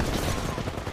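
Rapid overlapping gunfire from the video game The Finals, a dense loud burst of shots filling the whole moment with a faint voice underneath.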